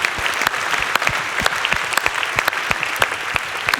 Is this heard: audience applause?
yes